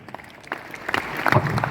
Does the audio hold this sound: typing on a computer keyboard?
no